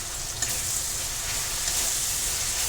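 Stuffed bitter gourd (karela) filled with homemade masala frying in oil in an Indian home kitchen, giving a steady, close, hissing sizzle with no pauses.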